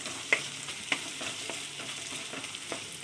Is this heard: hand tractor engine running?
no